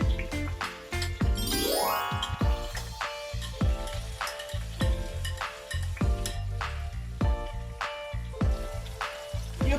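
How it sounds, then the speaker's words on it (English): Herbs sauté in a hot pan while Jamaican ackee and saltfish is cooked, a steady sizzle broken by repeated clanks of a spoon stirring against the pan, with a short rising squeak near the start. "I'm going to add all my herbs in and let them saute"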